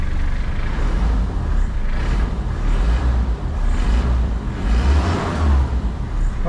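An Isuzu Trooper engine runs loud and close with a rough, rumbling roar and slight swells in revs, a dense steady drone lasting several seconds with no clear talk over it.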